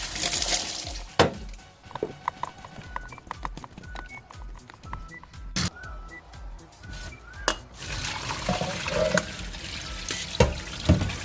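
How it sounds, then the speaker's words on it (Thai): Peeled shrimp washed by hand in a bowl of water with salt and soda: steady watery sloshing and rubbing with irregular clattering knocks and splashes, fairly close and without talk. "แล้วเรามาล้างกุ้งให้สะอาดกันค่ะ"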